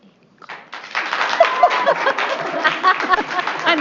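A burst of clapping from a small group at a school district board meeting starts after a brief pause and continues steadily, fairly close and lively.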